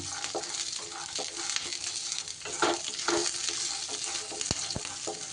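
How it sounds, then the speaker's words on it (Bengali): Spice mix with fried peanuts for a Rajasthani paneer thecha is stirred and fried in a pan, with a steady close sizzle broken by repeated scraping strokes and a couple of sharp spoon clinks near the end. "বাদামটা দিয়ে এইবার মশলাটা একটু নাড়াচাড়া করে নেব"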